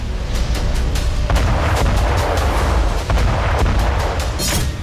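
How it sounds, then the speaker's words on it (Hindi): Artillery and tank fire in war footage from Zaporizhzhia, Ukraine: a dense, continuous roar of booming cannon blasts and sharp gunshot cracks with heavy rumble, loud throughout and no talk. "रूसी सेना पर तोप और टैंक से हमले कर रहा है"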